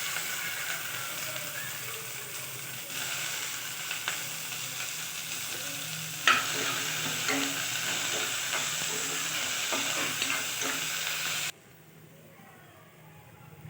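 Tomatoes and onions sauté in a pan for white kurma, a steady close sizzle with scattered stirring scrapes running for most of the stretch, then quieting abruptly near the end.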